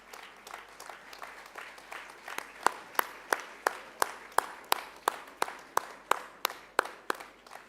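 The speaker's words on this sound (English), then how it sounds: "Big round of applause." Audience applause at a university graduation ceremony, starting as a soft scattered patter and settling into loud, evenly spaced rhythmic clapping that rises in strength toward the end.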